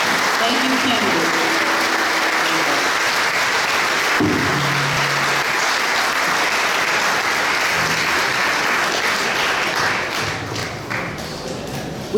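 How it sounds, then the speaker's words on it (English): An audience applauds mayoral candidates at a 2019 Apalachicola candidate forum, giving sustained, dense clapping that carries on for several seconds and thins toward the end. "Let's give our candidates for mayor a round of applause."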